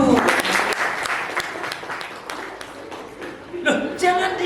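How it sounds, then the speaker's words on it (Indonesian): Applause from the audience at a school event at SD Muhammadiyah Klaten Utara: steady, dense clapping throughout, with a speaking voice over it and a louder swell of clapping near the end. "Tepuk tangan dulu."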